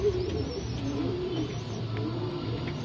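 Pigeons cooing at a loft of pigeons for sale, a soft, steady low cooing that continues throughout against a faint hum, with no talking.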